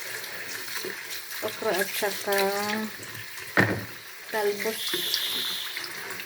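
Kitchen tap running steadily while okra is washed in a sink, a close splashing hiss of water under a woman's speech, with brief changes as the vegetables are rinsed.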